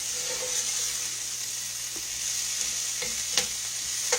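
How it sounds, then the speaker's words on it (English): Cabbage with onion sautés in a pan, giving a steady, close frying sizzle with a few soft stirring clicks and scrapes. "Our cabbage is cooking real good right here."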